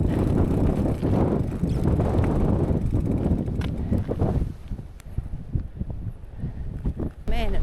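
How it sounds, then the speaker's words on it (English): Strong wind buffets a bike trail on the Munda Biddi, roaring loudly across the microphone for several seconds before dropping to lighter gusts and scattered rustling. "Man, it's windy here."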